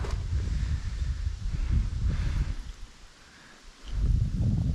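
Wind buffets across a remote taiga lake, gusty low rumbling that swells and briefly drops away before surging back, close and loud with no voices.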